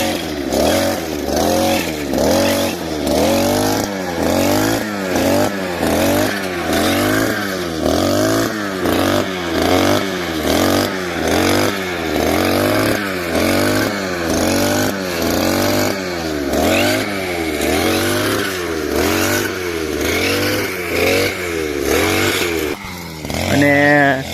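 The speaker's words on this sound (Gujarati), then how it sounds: "મશીન અવાજ બહુ કરે છે પણ કેવું કામ આપે જો સરસ મજાનું" A petrol grass-cutting machine runs in a cotton field, its engine droning loudly and continuously at close range with a rapid pulsing rhythm, while a voice speaks over it.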